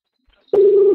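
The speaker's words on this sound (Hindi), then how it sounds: "अब ये कॉल जा रहा है।" A computer's outgoing phone call plays a single steady ringback tone that is loud and close, lasting about half a second after a short silence.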